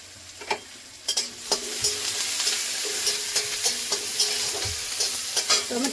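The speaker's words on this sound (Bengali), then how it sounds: "অল্প লবণ দিচ্ছি, ভেজে নেব।" Onion, garlic and green chili fry in hot mustard oil, giving a loud, steady sizzle with scattered crackles and stirring scrapes, no voices.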